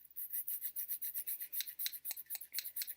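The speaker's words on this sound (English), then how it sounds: "I'm going to take my stirrup and I'm going to scrub it until it's as white as I would like it." A saddle stirrup is scrubbed clean with brisk back-and-forth strokes, a rapid rhythmic rasping that repeats about six times a second, close and fairly quiet, with no voices.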